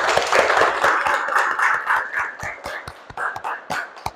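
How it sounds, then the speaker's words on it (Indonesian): A small group of students in a classroom claps. Individual hand claps are distinct and fairly close, fast and uneven at first, then thinning out into scattered claps. "Tepuk tangan untuk kita semua."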